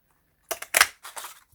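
Scissors cut a sheet of William Morris-patterned decorative paper from a paper pad: a few quick, crisp snips close by and fairly quiet, bunched within about a second, with no talk.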